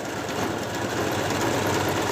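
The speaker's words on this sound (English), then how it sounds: "I am able to stitch right over them because my sewing machine is going right past them." A home sewing machine runs steadily, stitching fabric straight over pins for a costume piece, giving a continuous close mechanical whir with a fine rapid rhythm and no pauses.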